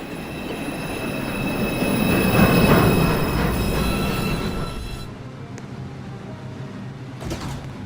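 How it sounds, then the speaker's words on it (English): A New York City subway 2 express train rumbles through, loud and near, with wheels squealing on the rails and a rising roar that fades. A brief door or brake hiss follows in the quieter tail. "This is a Dutchville Boulevard bound 2 express train."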